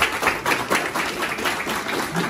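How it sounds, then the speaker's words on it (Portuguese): A small group gives a round of applause, brisk, fairly close clapping with individual claps audible in a quick uneven rhythm that carries on briefly. "Salva de palmas, gente."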